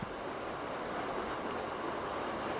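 Steady rolling rumble of a tram or carriage ride in The Thaumaturge, a continuous broadband rail-like clatter that stays even and moderately loud throughout, with no voices.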